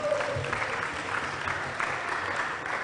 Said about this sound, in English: Could I please ask you guys to give a round of applause?